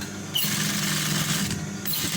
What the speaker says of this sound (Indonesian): Ayeuna urang kana mesin corong teh nya ieu.